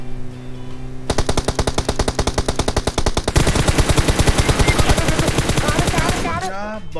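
Video game gunfire in fast, sustained automatic bursts, loud and close, running almost without pause for several seconds before cutting off at the end, with a voice briefly audible at the close.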